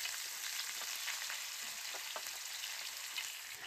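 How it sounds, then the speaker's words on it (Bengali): Chopped onions frying in oil with whole cumin, a soft continuous sizzle with faint crackles and occasional stirring scrapes, quiet and steady without talk. "জিরেটা ভালো করে ভাজা হয়ে গেলে এবার আমি দিয়ে দেব কেটে রাখা পেঁয়াজ।"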